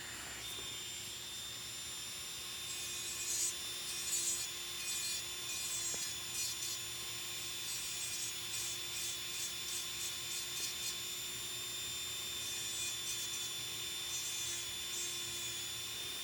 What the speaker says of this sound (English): This is a diamond burr that has a little tiny rounded tip to it.